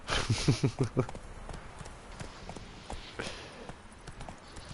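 Horse hooves clip-clop in the video game The Witcher 3, a quick burst of about six close hoofbeats at the start, then quieter steps and game ambience.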